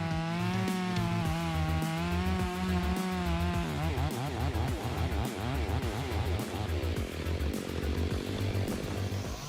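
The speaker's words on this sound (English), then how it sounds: "A tall oak tree was felled in less than 10 minutes by a modern chainsaw." A modern chainsaw fells a tall oak tree, its engine buzzing loud and close. The engine holds one steady whine and then breaks into a rapid wavering rev under load as the bar cuts through the trunk.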